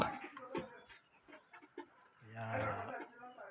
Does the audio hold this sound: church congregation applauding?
no